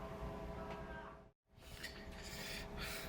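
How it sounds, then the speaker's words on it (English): Fine sandpaper rasps steadily across a homemade soap mold, a dense scratchy rubbing that breaks off briefly for a moment of silence before resuming at the same close, even level. "smooth it back out with finer and finer sandpaper"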